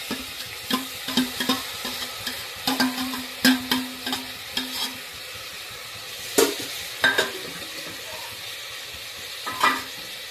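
Tomatoes and onion fry in a pan for a Konkan-style prawn rice, giving a steady soft sizzle broken by repeated sharp scrapes and clinks of a spoon stirring against the metal, close and fairly loud.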